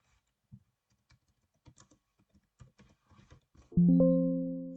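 Soft, close clicks of keys on a computer keyboard tapping out a short burst of typing, irregular and light, ending in a sudden bright electronic chime.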